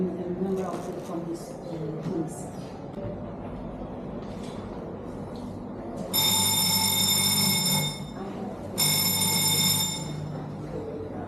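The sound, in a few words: alarm ringing in museum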